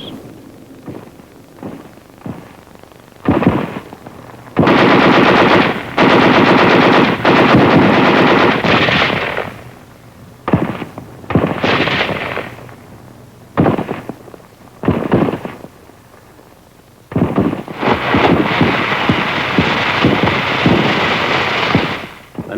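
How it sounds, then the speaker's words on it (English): Sustained machine gun fire in Okinawa's fortified hillside caves, loud bursts of automatic fire with short gaps between, some single shots and echoing reports, no voices. "The natural hillside caves are fortified with machine guns or mortars."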